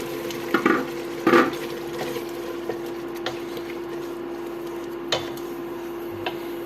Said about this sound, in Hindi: गोश्त की बुनाई करते हुए हम इसमें खड़े मसाले ऐड करेंगे।